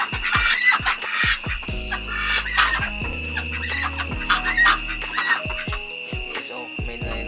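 Chickens, including a Brahma hen and Black Australorp hens, cluck steadily and close by, a string of repeated clucks and calls without talk.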